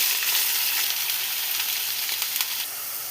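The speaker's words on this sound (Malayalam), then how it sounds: "ചതച്ച് വെച്ചിരിക്കുന്ന ഉള്ളി പച്ചമുളക് എല്ലാം അഴിച്ച് കൊടുക്കാം" Crushed onion and green chilies hit hot coconut oil with fenugreek seeds in a pan, giving a loud, dense, steady sizzle with scattered crackles throughout and no voices.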